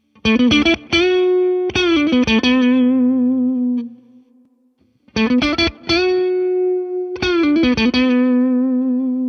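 A heavily distorted electric guitar through a British amp simulation in AmpliTube 5 plays tight, chugging chord riffs in bursts, with a brief pause mid-phrase before the riff returns, loud and close.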